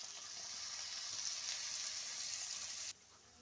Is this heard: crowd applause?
no